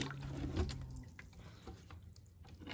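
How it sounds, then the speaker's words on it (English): Liquid pours into an animal's water bucket in a farm stall as apple cider vinegar is added, a steady close splashing trickle, loudest near the start, that then settles into a softer flow. "Now we'll just add some apple cider vinegar to it."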